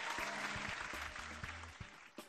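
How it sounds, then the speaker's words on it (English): A studio audience at a Nigerian TV talk show applauds the guests with a broad wash of clapping, heard over a low musical backing that fades toward the end. "you can help me applaud all of my correct guests in the building"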